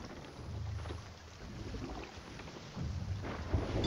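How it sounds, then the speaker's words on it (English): A thunderstorm at sea in the video game Sea of Thieves sends low rumbling thunder over steady rain and sloshing water around a ship, with heavier swells building toward the end and no voices. "I'm going to attempt to steer us out of the storm."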